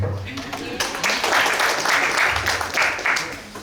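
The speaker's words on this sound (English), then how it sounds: "So I guess applause to all of you." Audience applause at an international academic workshop at FISIP UNDIP, a moderate wash of clapping in a hall, with a voice speaking over it.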